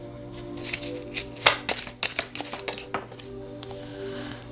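Tarot cards are shuffled by hand in a series of quick riffling and slapping bursts, close and crisp, over a low steady hum.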